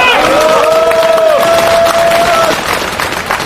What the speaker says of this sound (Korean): 김정만 부위원장 동지께 뜨거운 박수 부탁드리겠습니다